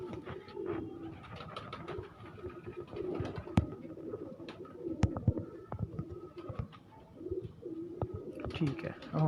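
Pigeons coo repeatedly in a breeder loft in Faisalabad, one bird brought from Kasur, their low throaty calls overlapping steadily with occasional wing flutters and scuffs, with a voice murmuring in the background.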